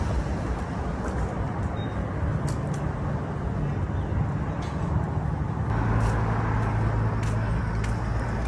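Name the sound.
road traffic noise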